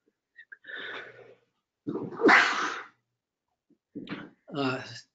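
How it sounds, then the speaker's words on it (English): A person sneezes loudly once, with sharp breathy bursts before and after, fairly close and otherwise quiet. "I think I have to sneeze"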